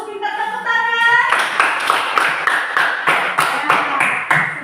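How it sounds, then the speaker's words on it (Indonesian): Students in a classroom clapping together after a brief teacher's voice, a close, loud rhythmic series of about eight synchronized claps in an even beat. "Ya, bagus, pintar, tepuk tangan."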